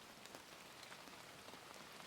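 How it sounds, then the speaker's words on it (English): Soft, steady rain patters evenly on an outdoor terrace, faint and continuous with no voices or other sounds. "The rain was falling steadily on the terrace outside."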